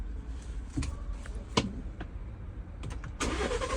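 A car's engine runs at an auto auction, a close, steady mechanical hum with a few sharp clicks and knocks, and a burst of louder noise near the end; no one speaks.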